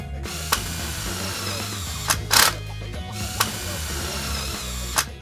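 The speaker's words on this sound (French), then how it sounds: "Puis clipsez les rails aux fourrures." Metal rails snap onto metal furring channels in a window-frame insulation job, making several sharp, isolated clicks and clacks spaced a second or so apart over a low background hum.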